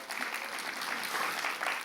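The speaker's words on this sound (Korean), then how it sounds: "박수 한번 하시죠." A church congregation at a festival worship service claps in steady, dense applause, moderately loud and continuous throughout, with no voices standing out.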